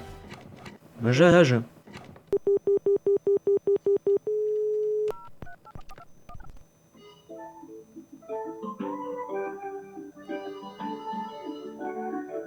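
A telephone connected to a mixing desk sounds clean, rapid DTMF dialing beeps in an even series, followed by a steady held tone, with talking heard around it.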